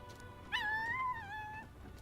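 A puppy in the video game Metaphor: ReFantazio lets out a single thin, rising whimper that wavers and fades over about a second, heard close over a quiet game soundtrack.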